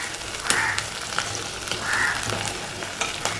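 Green chillies and shallots fry in a hot pan, giving a continuous close crackling sizzle with occasional sharper pops and light stirring scrapes, no voices.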